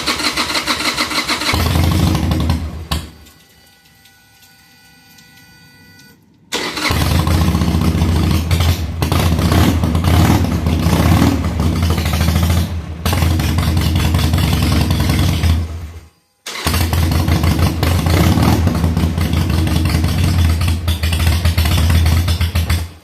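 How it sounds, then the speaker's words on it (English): A 2007 Harley-Davidson Sportster 883 with low fuel pressure cranks and fires up, drops briefly, then restarts into a loud, close, loping idle that runs steadily with a brief cutout midway. "So let's start the bike, see what we get."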